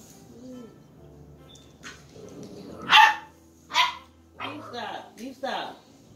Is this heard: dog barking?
yes